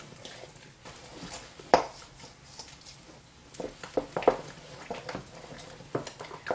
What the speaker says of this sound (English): And I'm going to mix those up in my little bowl